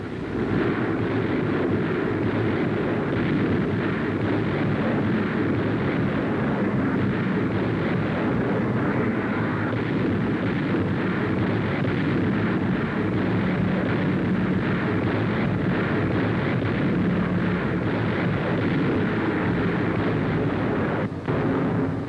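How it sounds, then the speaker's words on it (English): Aerial bombardment in 1944 newsreel footage, with 356 tons of high explosive dropped on jungle positions at the Arawe Peninsula, heard as a constant heavy, muffled rumble of blasts and aircraft noise throughout, loud and unbroken. "356 tons of high explosive, softening up enemy positions in the jungle below"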